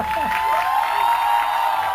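Crowd applause and cheering at a live Independence Day celebration concert and poetry event, a steady roar of clapping and voices held for a couple of seconds without a break.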